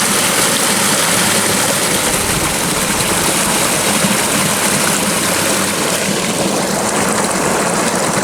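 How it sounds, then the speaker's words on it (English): Water pours steadily into a shrimp pond in a dense, continuous rush, loud and close, with no pauses across the whole stretch. "It's not a lot of water coming in, but it's a fairly decent amount."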